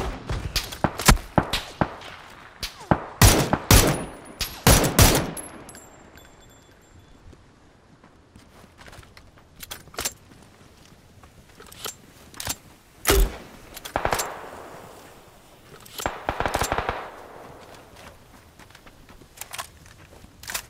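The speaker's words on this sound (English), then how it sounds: "I know I heard gunfire" Bursts of rapid gunfire in the video game PUBG on the Erangel map crack in quick clusters, loud at first, then scattered shots and lighter clatter follow after a quiet stretch.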